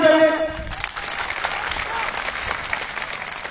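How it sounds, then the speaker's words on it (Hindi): Applause from a crowd at an outdoor rally, sustained dense clapping that follows a brief voice and continues steadily. "एक बार जोरदार ताली बजाइए"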